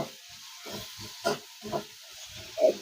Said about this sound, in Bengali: একটু ভেজে নেবো পেঁয়াজগুলো